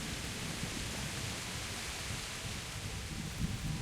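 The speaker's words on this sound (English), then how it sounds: "Of course, it's raining." A constant hiss of rainfall in the video game Kingdom Come: Deliverance fills the scene, even and unbroken, with a faint low rumble underneath and no voices.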